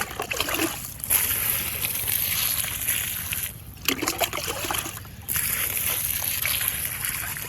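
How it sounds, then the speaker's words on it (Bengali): Water poured onto the soil around a newly planted G-9 banana sapling, a steady close splashing and sloshing with a few brief pauses, no talking. "এখন প্রিয় দর্শক, পানি দিচ্ছি এটাতে।"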